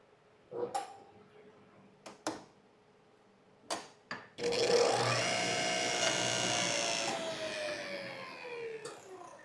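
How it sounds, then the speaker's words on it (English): Plywood base panel pulled from a garage cabinet frame: a few sharp knocks and taps, then a long, loud scraping slide with a drawn-out squeal as the sheet works free. "So I'll remove this plywood right now"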